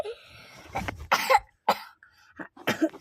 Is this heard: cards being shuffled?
no